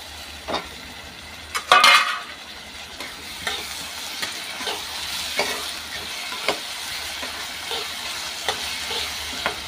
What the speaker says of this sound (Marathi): टोमॅटो देखील छान परतला गेला आहे.